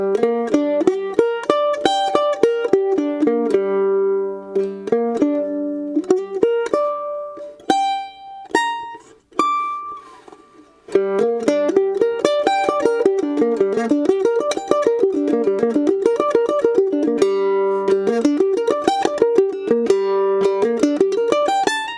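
A mandolin plays a steady series of minor triads, bright plucked and strummed chords ringing close and clear, with a short pause midway before the pattern resumes, no voice.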